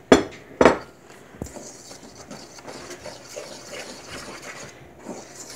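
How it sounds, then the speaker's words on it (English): Egg and milk mixture is stirred into scone batter for blueberry lemon scones in a bowl, starting with two sharp clinks of utensil against the bowl, then a soft, continuous scraping and sloshing nearby. "we're going to add in our egg milk mixture and stir it around."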